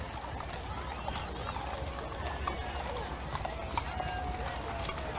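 The dancing horses of Central Washington walk in the Stemilt Grand Parade, their hooves clip-clopping in a scattered, steady rhythm beneath continuous commentary and crowd noise.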